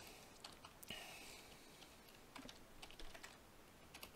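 Quiet, close keystrokes on a new computer keyboard patter in uneven bursts, alone in a hushed room.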